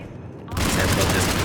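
A burst of rapid gunfire erupts after a quiet half-second, from an infinite-ammo weapon in Mass Effect 3, loud and continuous to the end, with a voice speaking over it.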